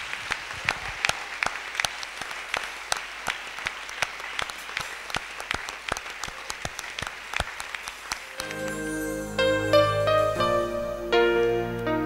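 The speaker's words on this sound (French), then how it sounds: "Acclamons encore très fort notre roi." Applause from a church congregation during a Sunday worship service, sustained clapping at moderate loudness for about eight seconds before giving way to sung music.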